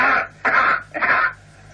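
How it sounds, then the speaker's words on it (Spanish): A recorded human cough under ordinary Earth conditions: three harsh, close coughing bursts in quick succession, each loud and short, with brief quiet gaps between them and no talking. "la primera entrada es la tos en la Tierra"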